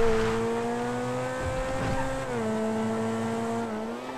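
Race car engine droning at high revs with steady harmonic whine and slight pitch shifts as it holds speed around the Nürburgring GP circuit in GTA 5, loud and continuous with no talk.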